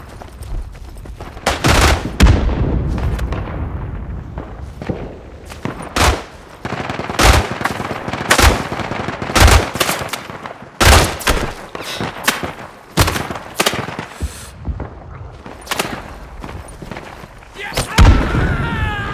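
Rapid bursts of machine-gun fire and single gunshots crack through a World War I battle at Isonzo, with the Italians defending the Piave against German attackers, loud and near, dense volleys with brief lulls and distant thuds behind.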